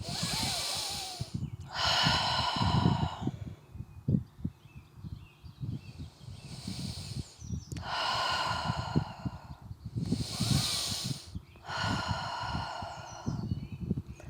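Slow, deep breaths during a gentle yoga forward fold, long audible inhales and exhales alternating in a steady rhythm, close and clear, with no talking.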